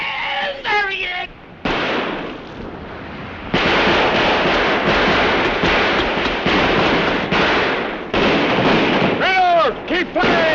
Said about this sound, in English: Reload! Keep firing!